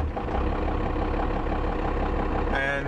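A 12-valve Cummins diesel idles with a steady low rumbling drone, loud and close throughout, and a short higher whine near the end.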